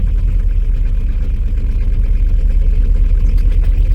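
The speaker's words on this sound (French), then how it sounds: "On dirait qu'elle est sur 3 cylindres la bagnole." A VW Golf 3 engine idling roughly and unevenly, as if misfiring on three cylinders, with a steady low rumble and clatter held close and loud throughout.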